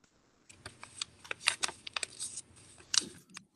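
Sheet of paper being folded into an origami crane, a quiet series of crisp crinkles, taps and creasing rustles in irregular bursts, close and soft, with no talking.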